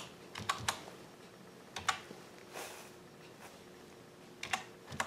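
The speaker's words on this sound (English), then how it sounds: "from the keyboard, you can write, I'm just typing" Computer keyboard keys clatter in short bursts of quick taps with pauses between them, close and fairly quiet over a faint background hum.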